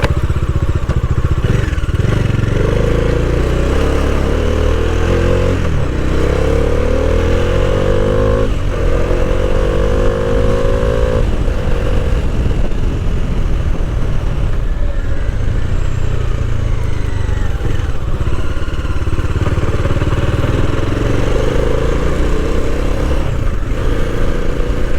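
Motorcycle engine riding on a snowy, foggy road, captured on a GoPro Hero 7 Black, a loud steady drone with rising and falling revs and gear changes throughout, close and continuous with no talk.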